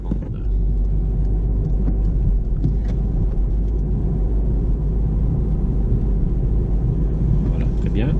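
A car cruising at 50 km/h during a driving lesson on a French road gives steady, loud low engine and road rumble throughout, with a faint voice under it.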